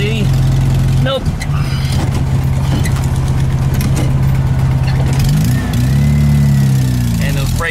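A VW Super Beetle, a Super Volksrod on newly fitted rear disc brakes, running hard from inside the car, its engine droning loud and steady with rising and falling revs while someone talks over it.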